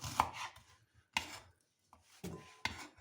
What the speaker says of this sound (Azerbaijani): bir neçə hissəyə bölüb belə bu şəkildə doğrayırıq.